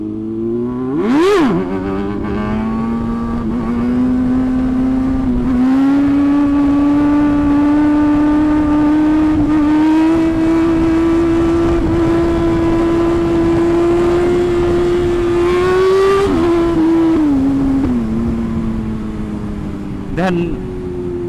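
Motorcycle on a Jakarta street held in a wheelie, the engine blipped sharply then held at a steady high drone, with a few throttle changes and another quick rev near the end, loud and close.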